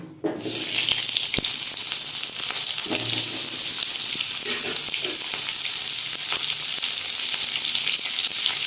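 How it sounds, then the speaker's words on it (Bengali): Pointed gourd pieces drop into hot oil and erupt into a loud, steady frying hiss that holds for several seconds, with a few light clinks from the pan. "এবার পটলগুলোকে ভেজে নেব"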